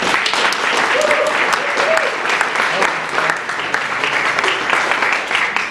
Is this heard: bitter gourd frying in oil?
no